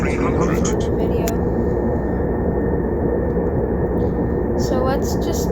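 PV-40 turboprop aircraft engine in a flight simulator game, a loud, steady droning roar that runs unbroken throughout with a few brief higher tones over it.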